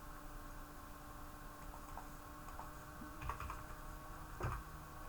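Code being typed on a computer keyboard: soft, sparse key clicks over a steady low hum, a few louder taps toward the end.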